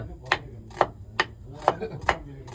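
Knife chopping food on a board in a ship's galley, five or six sharp, evenly spaced thuds close by over a low background hum.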